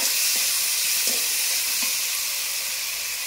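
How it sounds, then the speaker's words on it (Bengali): Spices, bitter gourd and potato sizzle loudly and hiss steadily in a pan while being stirred, with a few soft scraping knocks from the stirring near the start. "এবার সব মশলাগুলো ভালো করে কষিয়ে নেব।"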